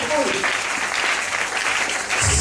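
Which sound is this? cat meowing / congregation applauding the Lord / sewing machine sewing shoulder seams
congregation applauding the Lord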